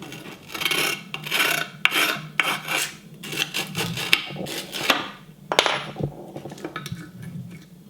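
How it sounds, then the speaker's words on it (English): An Allen key is dragged along the edge of a skateboard deck over grip tape, giving loud, close rasping scrapes in irregular bursts with brief pauses and a few sharp knocks. "I'm going to basically run my Allen key or my axle or whatever I'm using along the edge of the deck"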